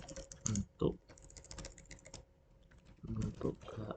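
Fast typing on a computer keyboard gives rapid clusters of light clicking keystrokes with short pauses between bursts, close and fairly quiet, with a faint voice occasionally present.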